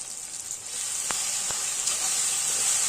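Kinema curry with tomatoes cooks in a pan with a continuous bright sizzle and a couple of sharp utensil clicks, heard up close without any voices.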